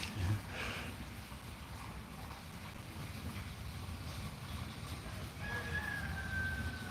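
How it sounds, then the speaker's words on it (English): A rooster crows faintly in the distance, a thin, drawn-out call rising late in the stretch over a low, windy outdoor background, with no nearby voices. "there's a chicken starting to crow."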